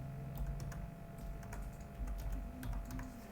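Rapid clicking keystrokes on a computer keyboard while entering a voucher name in Tally Prime, uneven bursts of close, crisp taps with no talking.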